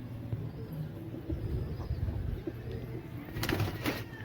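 Pigeons at a pigeon house give soft low coos amid a faint, quiet background, with a brief burst of wing flapping near the end.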